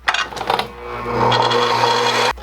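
A miter saw set to 45 degrees cuts a piece of wood. Brief clattering handling noises are followed by a close, steady whirring bite into the wood that cuts off sharply near the end.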